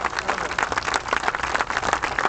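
A crowd at a prayer vigil for grieving families of Burr Oak Cemetery gives Reverend Jackson a round of applause: steady, dense clapping that fills the moment without a break and with no voices on top.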